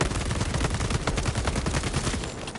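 Rapid bursts of SMG fire in the video game Warhammer 40,000: Space Marine 2, sustained and loud across the whole moment, with dense rattling shots and no pause.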